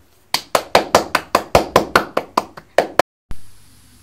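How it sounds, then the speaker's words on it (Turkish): A family at home claps together in thanks to health workers: about fourteen sharp, evenly spaced claps close to the microphone, a brief pause, then a final bang. "Biz de size alkışlarla teşekkür edeceğiz."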